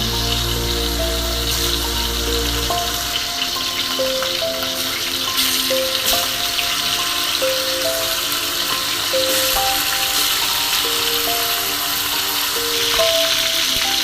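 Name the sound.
chicken meat frying in hot oil in a pan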